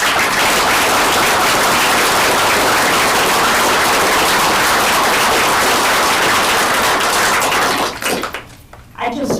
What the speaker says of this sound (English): I guess I would ask if we could give a round of applause for our teachers